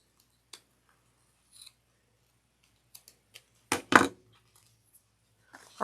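Scissors snip through a fabric pick-up bag, giving a brief cluster of close, crisp cutting sounds in the middle, with a few scattered light clicks and rustles around it in an otherwise quiet room.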